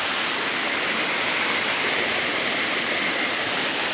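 Maria Makiling Falls pours with a dense, steady rush of water, an even, unbroken roar heard close up with no voices.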